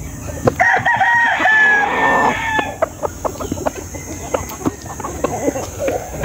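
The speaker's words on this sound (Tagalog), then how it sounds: "Yung mga manok natin dito." Roosters crow repeatedly up close over a busy farmyard, with scattered clucks and short knocks continuing after the crowing fades.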